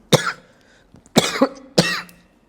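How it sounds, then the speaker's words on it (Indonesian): A man who has been sick for about two weeks coughs three times in close succession, each a loud, harsh burst, the middle one a double cough, with short quiet gaps between. "Saya 2 minggu kayaknya udah batuk-batuk begini"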